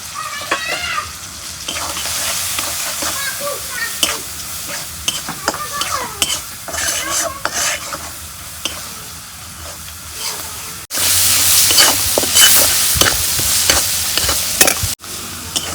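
Spices with salt and turmeric powder being stir-fried in a pan for a mola fish and eggplant dish, a steady close sizzle broken by scraping spoon strokes, growing louder and denser in the last few seconds.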